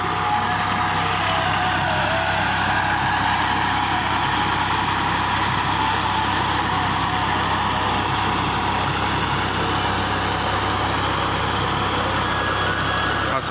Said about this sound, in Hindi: ट्रैक्टर लगाया है मजबूरी से क्योंकि सोलर नहीं चलता